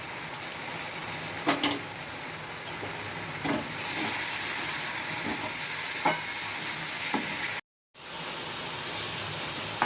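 Plantain kofta curry frying in ghee in a pan while being stirred, a loud steady sizzle with occasional scraping strokes of the spoon, close up and without speech, briefly cutting out near the end.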